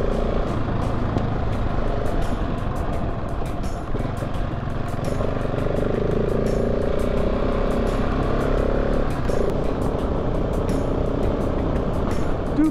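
A dual-sport motorcycle, a Husqvarna 701 Enduro or Honda CRF250, riding a forest trail, its engine droning steadily and close throughout with slight throttle changes and no pauses.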